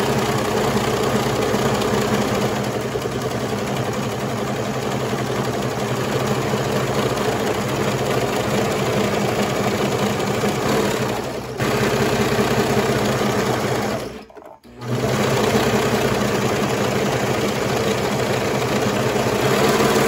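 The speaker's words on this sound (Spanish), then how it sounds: "hacerle el dobladillo en la máquina de costura corriente" A household sewing machine hems a recycled ironing board cover, a steady mechanical whir running loud and close for nearly the whole stretch, dropping out briefly near the three-quarter mark before resuming.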